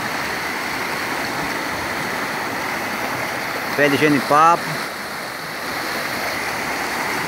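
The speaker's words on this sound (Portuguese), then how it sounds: "Tô aqui no meio do riacho." Steady rushing of water through a creek fills the whole clip, loud and close around someone standing in the stream, with a short burst of speech partway through.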